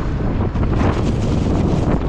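Strong, cold wind blows along a coast where a fishing trip was called off, roaring steadily and buffeting the microphone throughout with no break.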